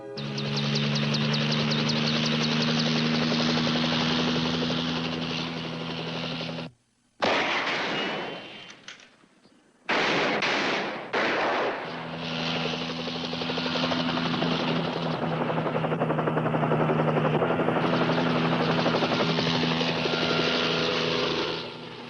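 A police helicopter flies overhead with a loud, steady rotor beat during a crossfire with kidnappers, cut briefly by a drop in sound, then resuming near and loud for the rest of the clip.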